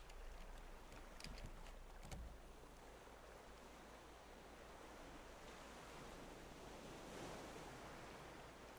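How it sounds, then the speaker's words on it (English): Ocean waves in the survival game Raft wash in a continuous broad hiss of surf, steady and enveloping with a few brief knocks early on, and no voices. "the sound of the waves is just so soothing"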